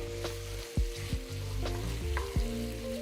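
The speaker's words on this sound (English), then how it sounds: "I'm just giving this a little stir." Ramen sauce with mushrooms sizzles steadily in a pan while a utensil stirs through it, adding a few soft scrapes and clicks over the constant close frying hiss.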